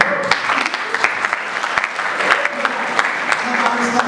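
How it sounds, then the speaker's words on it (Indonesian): A congregation claps together during a church worship service, brisk, continuous applause with scattered sharper claps standing out, lasting about four seconds. "kita tepuk tangan dulu"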